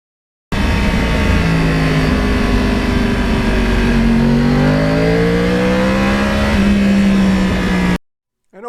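A Yamaha R1 crossplane motorcycle under way on a ride along the Hudson River in lower New York State, its engine note loud and close, rising and falling in pitch with gear changes and throttle over about seven seconds.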